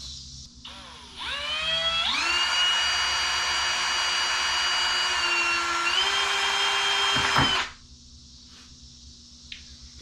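A power drill drilling into a skateboard wheel winds up to a high whine, runs steadily for several seconds with a shift in pitch, then stops abruptly.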